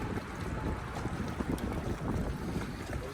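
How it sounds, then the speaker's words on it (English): Ocean waves churn with wind buffeting the microphone in cold open water, a continuous rough wash of surf and gusts, fairly close and moderate in level with no voices. "Those waves are really tough."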